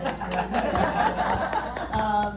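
Panel audience clapping and cheering, a brief burst of scattered applause with some voices and laughter mixed in, moderately close.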